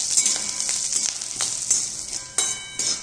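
Curry leaves, green chillies and ginger fry in hot oil with a bright, crackling sizzle, spiked by a few sharp spatters and stirring scrapes, close-up over about three seconds, no talking.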